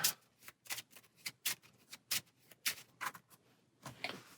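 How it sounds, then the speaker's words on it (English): Board game cards from Marvel Champions being shuffled by hand in a quick run of crisp riffling bursts, each a short papery flutter, close and fairly soft, with no speech. "Then these 3 cards get shuffled into the counter stack."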